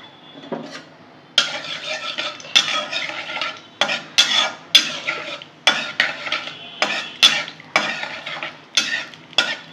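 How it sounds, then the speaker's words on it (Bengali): Nigella seeds and a dried red chilli crackle in hot oil, with a utensil scraping the pan in repeated rhythmic bursts of sizzling and stirring. "তেল গরম করে নিয়েছি, কালো জিরা দিয়ে দেবো, একটা শুকনো লঙ্কা দিয়ে দিলাম ফাটিয়ে"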